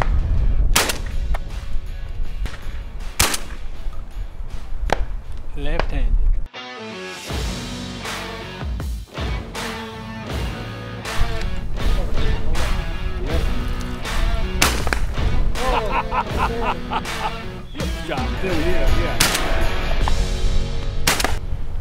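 Shotgun blasts during a white-winged dove hunt, many loud sharp reports fired in irregular bursts, some in quick pairs, with outdoor background noise between shots.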